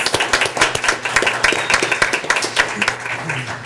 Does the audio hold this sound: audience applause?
yes